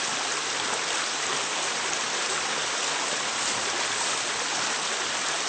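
Cress Creek, warmed by natural springs, rushes in a steady close hiss of flowing water with no pauses or talk.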